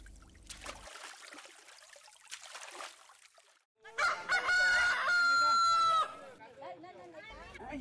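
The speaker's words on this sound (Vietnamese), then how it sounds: "Bình minh trên sông Gâm bắt đầu với những tiếng gà gáy gọi mặt trời lên." Roosters crowing at dawn beside the Gâm river in a village, with a loud close crow dominating the middle, fainter clucks and bird sounds around it, and quiet ambient gaps between.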